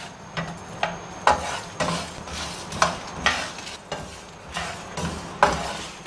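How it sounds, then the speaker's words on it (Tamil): Coriander, fennel and cumin seeds dry roasting in a pan, giving sparse, scattered crackles and light pops, about a dozen soft ticks spread irregularly over a faint low background hiss. "இப்போ இந்த மல்லி சோம்பு சீரகம் எல்லாம் பொரியும் பாருங்கள், சத்தம் வரும்"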